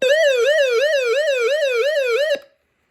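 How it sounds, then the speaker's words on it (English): A loud electronic siren from an Eton FR250 emergency crank/battery radio wails in a rapid rising-and-falling pattern for a couple of seconds, then cuts off abruptly into silence. "I guess you could put it on both flash and siren."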